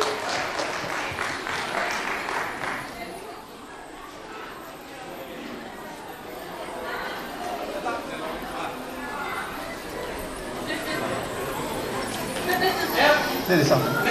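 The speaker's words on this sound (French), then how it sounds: "Applaudissez très fort." Applause at a Hmong New Year gathering in Irigny near Lyon, a continuous crowd clapping with a textured, patter-like quality that swells again toward the end, without any clear speech over it.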